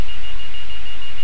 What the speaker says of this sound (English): that beeping is... those arrows, that's the planetary defense